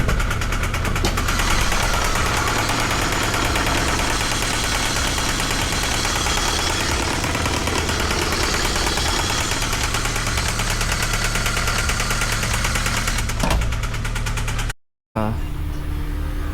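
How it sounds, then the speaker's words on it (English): A 2013 Scion FRS with a cylinder misfire runs with a steady, close engine drone and a repetitive knocking beneath it, followed by a brief cut-out near the end. "this is the car with the knocking sounds"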